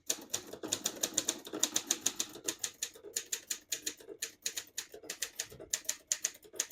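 Keys strike on a 1957 Triumph Perfekt portable typewriter in quick, close, crisp clacks with brief pauses between bursts, the typebars snapping in an uneven typing rhythm.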